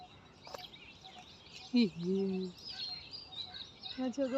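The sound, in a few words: peacocks calling in a park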